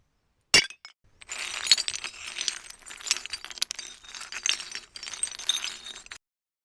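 An old roof tile in the building game Tiny Glade is smashed into pieces and dragged across stone: one sharp crack, then a steady stretch of clinking, crunching, glassy debris scraping along, close and clear with no voices.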